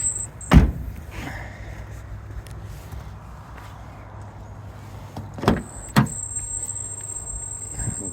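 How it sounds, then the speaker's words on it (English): Electric blind on the opening panoramic roof of a Renault Koleos Initiale Paris 2.0 dCi, a steady low motor hum running throughout with a few sharp clicks and knocks near the start and toward the end, no talking. "We do also have a lovely opening panoramic roof that does have an electric blind as well"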